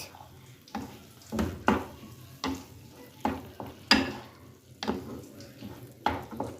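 Mashed brinjal bharta being stirred and fried in a pan, with repeated scraping strokes of a spoon over a soft, steady sizzle, close by and without speech.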